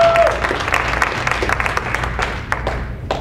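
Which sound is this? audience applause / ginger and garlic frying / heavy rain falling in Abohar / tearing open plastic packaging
audience applause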